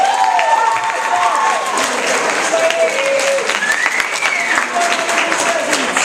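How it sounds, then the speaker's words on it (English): High school students at a talent showcase clap and cheer loudly, a dense sustained wash of applause with whoops and shouted voices rising over it throughout. "I want you to clap if you love Eastpointe,"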